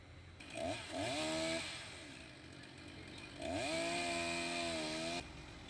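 A roaring chainsaw cuts into a tree, the engine revving up in two long loud bursts with a gap of lower idle between them, close and alone with no talk.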